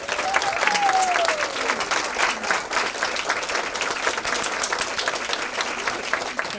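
An audience applauds to welcome speaker Christine Patton at a business event, a steady, full burst of clapping from many hands with a faint cheer near the start.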